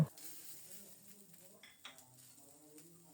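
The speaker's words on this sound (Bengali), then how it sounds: "প্রথমে শুকনো খোলায় একটু নেড়ে চেড়ে জলটা শুকিয়ে নিচ্ছি" Freshly washed, still-wet pumpkin seeds dry roast in a pan to dry off, turned with a spatula, making faint scraping, rattling and light sizzling sounds against the metal, with some clinks of utensils.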